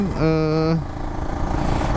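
An old Kawasaki Ninja RR 150 motorcycle with a sputtering, misfiring engine revs briefly in a rising whine, then drops back to a rough, uneven idle nearby.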